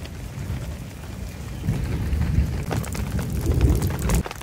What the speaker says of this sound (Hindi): भाई बादल गरज रहे हैं बहुत तेज